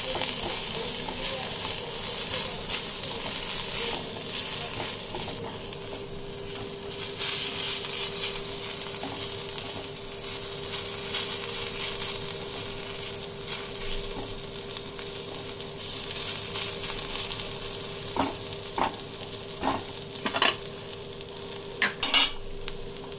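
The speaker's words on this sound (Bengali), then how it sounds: "সব দিয়ে আবার খুব ভালো করে নাড়াচাড়া করে নেব।" Cumin, mustard seeds, asafoetida and white sesame seeds fry in hot oil in a pan while being stirred, a steady close sizzle with scattered crackles and spoon scrapes that grow sharper toward the end.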